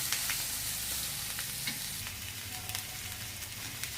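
Onion frying in a pan until browned, making a steady dense sizzle and crackle with faint stirring clicks. It sounds close and continuous, with no talk.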